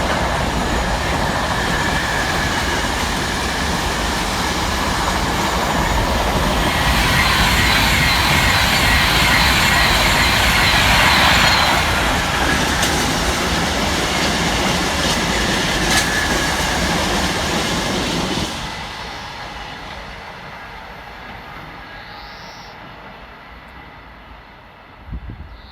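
Two Class 90 locomotives, 90-006 and 90-015, hauling a freight train while a Class 390 Pendolino, 390-152, overtakes them: a loud, sustained rumble and roar close by that fades as the trains move away.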